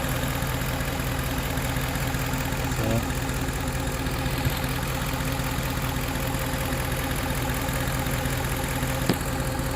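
A warmed-up Ford F-150 with the 4.6 engine idles steadily with a constant low rumble and faint ticking, close and continuous throughout with no voices.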